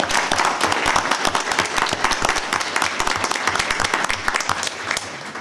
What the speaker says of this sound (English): I think that deserves a round of applause to start with